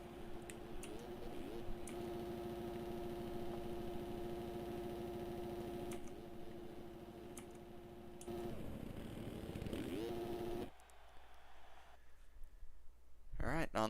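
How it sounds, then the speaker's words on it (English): A dirt bike engine in MX Simulator buzzes and revs steadily for several seconds with rising and falling pitch, under a commentator's talk, then cuts off into quieter background near the end. "Revving the bike, he is excited to get that win."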